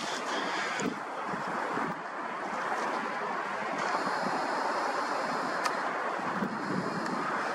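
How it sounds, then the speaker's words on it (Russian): Strong wind roars steadily across the microphone with a rushing, noisy texture, constant and loud throughout, with no voices. "Ну, ветер просто"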